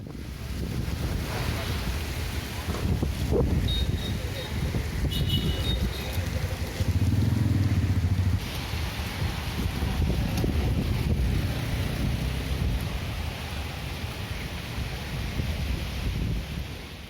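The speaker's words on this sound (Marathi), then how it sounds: "जाल्यार आतां पळोवया मडगांवां जाल्लें वादळ" Storm wind in Margao, Goa roars and buffets the microphone continuously, a loud rumbling gusty wash with no clear breaks.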